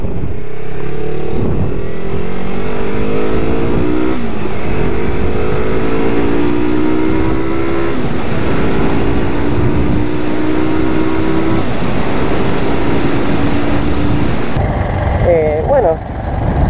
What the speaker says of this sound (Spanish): la Motomelia Escuadra 250 es una moto nacional de aquí de Argentina